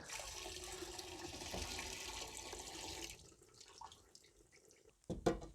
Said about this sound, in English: Now let's pour some gasoline back.